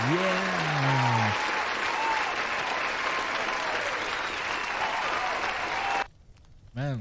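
Applause from a small audience, steady and sustained clapping for about six seconds, with a tonal musical sound at the start and a brief pause before it resumes at the end.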